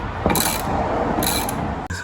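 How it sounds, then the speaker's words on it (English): A ratchet cranks down tie rod nuts on a Jeep XJ/ZJ tie rod upgrade, giving close, quick bursts of clicking pawl ratcheting in two or three short runs, with a brief pause near the end. "What size ratchet is that?"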